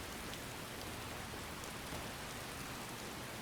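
Steady rainfall from the video game Skyrim, a dense, even hiss of drops pouring down without pause, alone and moderately loud.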